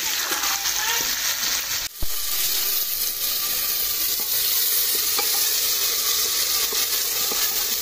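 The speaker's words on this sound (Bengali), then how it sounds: "এখানে পেঁয়াজটা ভাজা হচ্ছে, আর এখানে আলুগুলো লাল লাল করে ভেজে নিচ্ছি।" Onions and potatoes fry in oil for a Kolkata-style beef biryani, giving a loud, continuous close sizzle with a brief clatter of stirring partway through and no speech.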